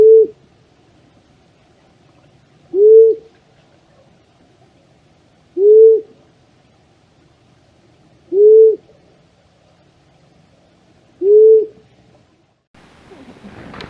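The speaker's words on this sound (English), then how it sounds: "This is what a long-eared owl sounds like." Five low, evenly spaced hoots of a long-eared owl, each a short soft note about three seconds apart, over quiet background before a rustle at the end.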